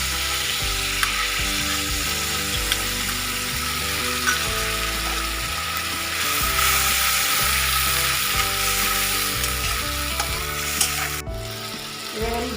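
Green chili paste, added after garlic and ginger paste, sizzles steadily in a hot pan for a fish-in-yogurt curry. The spoon scrapes and stirs in a repeating rhythm, close and fairly loud, with no talking.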